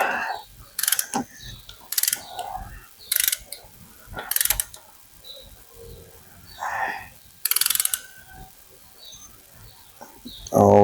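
A ratchet clicks in short bursts while snugging a bolt into a helicoiled hole in an LS engine valve cover, sharp close rattles separated by quiet pauses, with faint background noise between strokes.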